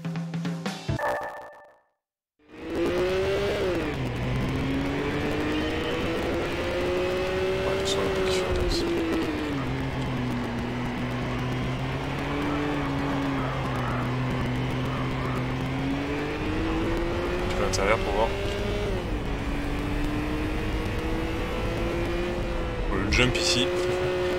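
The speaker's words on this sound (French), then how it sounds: "Le moteur aurait fait le même son, voire limite il aurait augmenté en, régime." Nissan Skyline engine in Gran Turismo HD on PS3, a loud steady drone that rises and falls in pitch with throttle through gear changes, continuous after a brief silent gap near the start.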